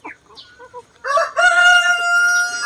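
Chickens with bad colds, kept outside their coop, give a few soft clucks close by, then a loud rooster crow rings out and carries on to the end. No one speaks.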